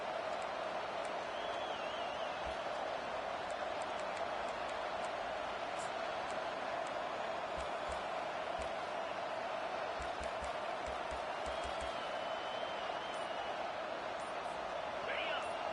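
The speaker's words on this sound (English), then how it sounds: "the crowd coming to life here, trying to help this defense down in the red zone" Crowd roar in a college football video game as the home defense holds in the red zone, a dense continuous wash of stadium noise at steady level with a few faint whistles and shouts, under commentary.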